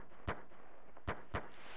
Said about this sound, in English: Fireworks, I guess.